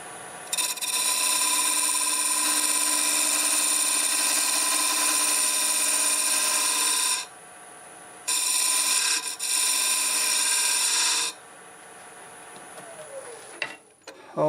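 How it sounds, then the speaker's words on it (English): Wood turning on a lathe at 900 RPM with a 1/2 inch bowl gouge on twisted tangent staves. A steady, high, scraping whine runs in two long cutting passes, then the lathe spins down at the end. "1/2 inch bowl gouge."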